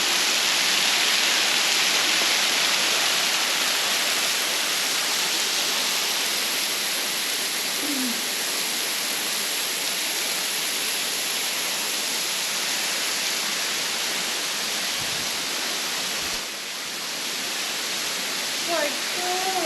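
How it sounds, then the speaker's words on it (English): Steady roaring rush of a waterfall in Victoria's High Country, heard from behind the falling water, loud and constant, with faint bird chirps and brief voices near the end. "Have a look at this thing, we're behind the waterfall."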